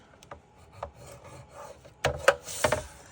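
A 1 by 5.5 inch paper strip for a fun-fold card is scored at half an inch, with faint rubbing strokes followed by a few sharper, louder scraping passes near the end, close and without talk.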